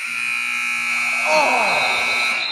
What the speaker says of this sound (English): Buzzer will sound.